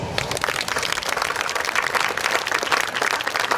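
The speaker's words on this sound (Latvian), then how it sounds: "Aplausim!" An audience applauds at a Karosta anniversary event with a naval band, the clapping steady, dense and fairly loud throughout.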